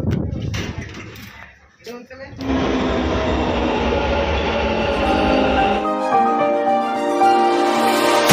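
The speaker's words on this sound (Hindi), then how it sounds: "उसके बाद मेट्रो में जा पाएंगे" A Bangalore metro train runs steadily at close range, a loud sustained rumble and whine after a few brief knocks, with a tonal hum joining near the end.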